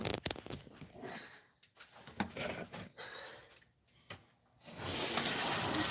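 Water runs from a tap while dishes are washed, with uneven splashing and clatter that gives way to a loud, steady rush of running water near the end.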